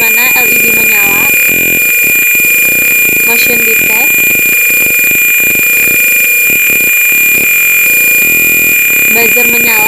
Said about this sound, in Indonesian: buzzer menyala